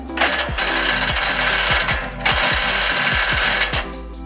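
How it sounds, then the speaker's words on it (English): An impact wrench hammers at a suspension bolt on a Nissan 370Z Nismo, loud and close, firing in two long rattling bursts separated by a short pause, with a deep rapid pounding running underneath. "we did the impact twice and then finally got this bar out, and Mike stood on it to finally get it off."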